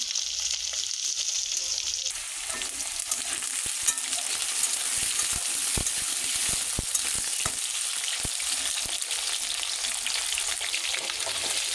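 Fish sizzling steadily as it fries in a pan, a loud continuous crackle with scattered sharp pops and occasional stirring clicks, no voices.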